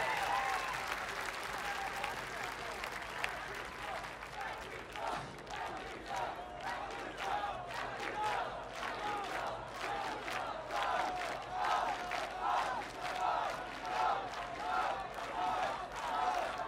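A concert crowd at a live show cheers and applauds loudly and steadily, with dense clapping and shouts sustained throughout and no gaps.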